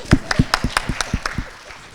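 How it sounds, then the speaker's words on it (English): Several people clap in a quiet room, about eight distinct, fairly close claps in an even rhythm that fade out after a second and a half. "that needs a round of applause"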